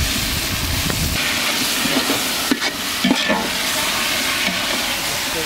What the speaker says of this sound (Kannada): ರುಬ್ಬಿರೋದು ಎಣ್ಣೆಯಲ್ಲಿ ಕರ್ಕೊಂಡು